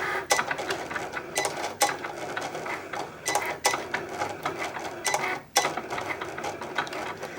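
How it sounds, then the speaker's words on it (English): A Cricut Explore cutting machine cuts vinyl, its motor whirring and the carriage shuttling with repeated sharp clicks and pauses, close and alone. "I'm going to let it go so you guys can see it cut the vinyl out"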